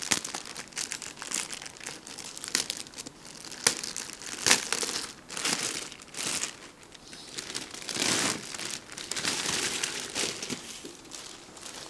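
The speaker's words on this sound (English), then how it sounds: "Take out from the plastic cover to see it." A plastic cover crinkles and rustles loudly and close as an RC crossrc-EMO JT4 off-road truck is pulled out of it, with irregular bursts of crumpling and crackling throughout.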